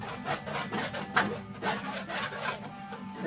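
Paint being scraped back with a tool while painting grasses, a series of short rhythmic rasping strokes, close and fairly quiet, repeating steadily with no talking.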